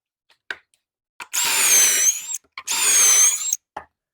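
Two bursts of a power drill boring pocket holes in wood through a Kreg jig, each whine lasting about a second, close and loud, with small clicks and handling knocks between them.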